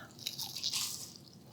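Biting into a crunchy fried rosette cookie made from a Betty Crocker recipe: a few close, crisp crunches and crackles over about a second, then quieter chewing, with no talking.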